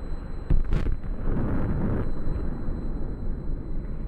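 An explosion goes off in Call of Duty Black Ops 2 team deathmatch, a sharp blast followed by a loud rumbling roar that lingers and slowly fades.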